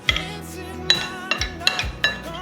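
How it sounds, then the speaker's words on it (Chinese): Five-spice powder and curry powder seasonings stirred together in a bowl, a utensil clinking against it in five or six sharp, ringing taps spaced irregularly, close and fairly loud, with no talking. "把所有调味料拌匀"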